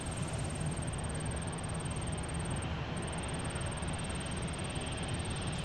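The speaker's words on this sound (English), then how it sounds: "KLM 250 Heavy now pushing back from the G Concourse over at Terminal 1." A KLM Boeing 777-200 heavy jet pushes back from a gate at Minneapolis–St. Paul airport. A distant, steady jet rumble and broad engine roar hold evenly throughout, with a thin high whine above it.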